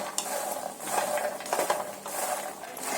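Makhana fox nuts dry-frying in a little oil in a pan, giving a dense, busy crackle and light clattering rattle, close and steady, with no talk.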